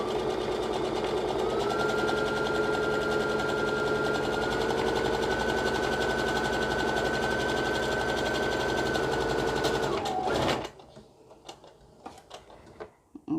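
Sewing machine running a long straight line of stitching, a fast steady whirring chatter held for about ten seconds before stopping abruptly, followed by a few faint clicks and handling noises.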